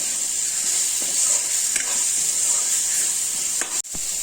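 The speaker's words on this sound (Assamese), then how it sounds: "আৰু মই জলকীয়া গুড়িখিনি দি দিম ইয়াতে ভালদৰে ভাজ কৰি দিম" Dried ground chili frying in a pan with pork and bamboo shoots gives a loud, continuous sizzle and hiss, close up, with a few faint stirring scrapes and a brief dip near the end.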